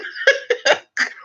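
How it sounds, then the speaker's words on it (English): A crowd member coughs in a short burst of four hacking coughs, picked up through crowd microphones at a live event. "I can like hear people coughing"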